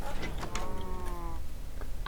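Blocky Minecraft cow in a cow pen gives a drawn-out, wavering moo of about a second, moderately close, with short game clicks and a brief sound toward the end.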